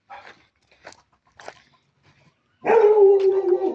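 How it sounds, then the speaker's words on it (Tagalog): A few soft scuffs and short noises come first, then a dog on a farm lets out a loud, sustained whine-like growl up close. "May aso dyan guys"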